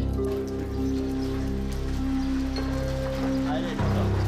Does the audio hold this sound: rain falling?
yes